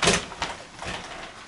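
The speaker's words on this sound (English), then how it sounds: "the kitchen, which can be fully hidden just by closing this foldable door" A foldable kitchen door in an apartment is pulled shut, giving a quick sequence of close clacks and soft sliding thumps as the panels fold together.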